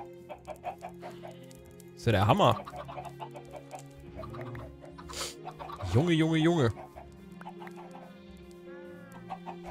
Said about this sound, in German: Sehr motivierte Hühner auf jeden Fall.